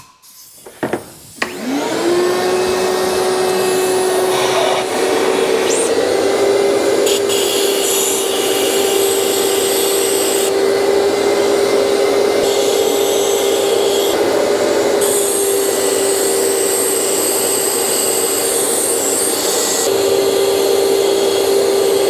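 A walnut blasting gun cleaning the intake valves of a BMW N54 engine gives a loud, steady hissing roar with a sustained tonal whine, starting after a few brief knocks and running continuously to the end.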